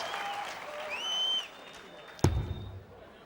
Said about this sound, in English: the crowd already cheering these two gladiators.